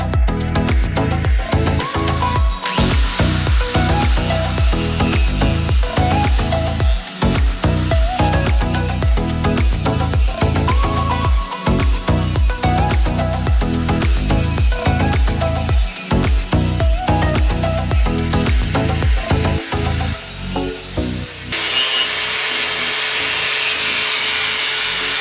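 A power tool grinds over a stitch-welded steel body mount bracket on a 5th gen Toyota 4Runner, a loud continuous abrasive whine pulsing in rhythmic strokes for over twenty seconds, then cutting off abruptly.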